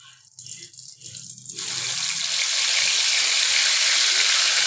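Eggplant pieces are dropped into hot oil and set off a loud, bright sizzle that swells and holds steady, after a brief voice at the start.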